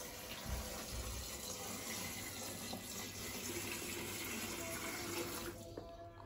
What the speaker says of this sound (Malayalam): ഞാൻ കുറച്ച് വെള്ളം ഒഴിച്ചു കൊടുക്കാം.